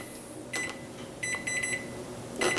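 A kitchen timer set while cooking prime rib gives several short electronic beeps in irregular bursts, fairly close against a quiet room background, no voices.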